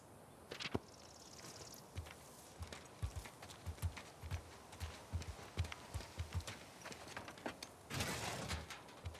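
Horse hooves clip-clop at a steady walking pace on a hard surface in the video game The Last of Us Part II, moderately close, with a brief rushing burst near the end.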